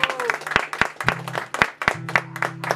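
At a mariachi birthday party, a small group claps for the birthday girl: a handful of close, sharp, uneven claps with faint voices and a held tone mixed underneath.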